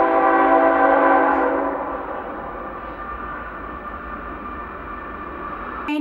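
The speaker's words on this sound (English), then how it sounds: "Okay, here comes a train." A train passes through a small town, its horn blaring loud and sustained for a couple of seconds before fading into the rumbling roll of the cars going by, close and steady throughout.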